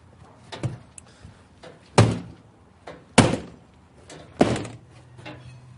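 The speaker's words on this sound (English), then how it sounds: "Make sure you try the door. I'm going to shock load it." A door that swings inward is slammed hard against its frame several times, loud sharp thuds at roughly one-second intervals with quieter knocks and rattles between them, no voices.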